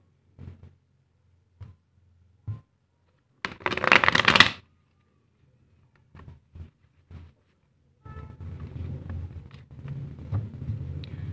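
Tarot cards shuffled by hand: a few soft isolated taps, then a loud burst of riffling, more scattered taps, and a longer stretch of steady shuffling rustle toward the end, close and with no talking.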